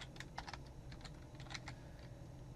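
Computer keyboard being typed on, a handful of light, quick key clicks in an uneven rhythm over a low steady hum, faint and close, with no talking.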